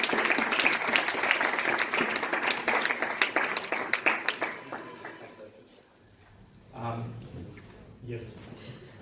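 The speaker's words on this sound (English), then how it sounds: "let's have a round of applause for the lovely couple who has volunteered" Audience at a training session applauds a volunteer couple: many hands clap in a dense, lively burst that thins into scattered claps and fades out, followed by a quieter stretch where a voice begins speaking.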